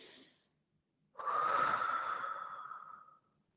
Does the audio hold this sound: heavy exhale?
yes